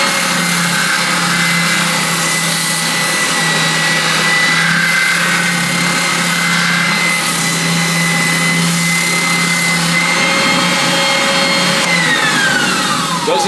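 Oscillating spindle sander with a 1.5 inch drum smoothing the curved edge of a wooden Telecaster-style guitar body, a steady loud motor drone with constant whirring that runs unbroken throughout, no voices.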